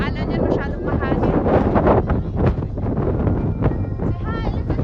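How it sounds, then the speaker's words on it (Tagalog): Strong wind buffets the microphone at a beach, a constant rough roar under nearby people talking and a voice. "Alam niya masyadong mahangin."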